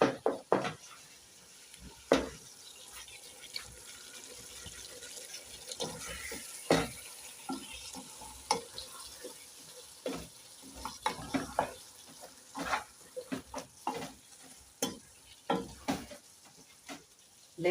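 Tomatoes cooking in a pot for beef biryani, a continuous sizzle and bubbling broken by many sharp utensil clicks and knocks, close and without speech.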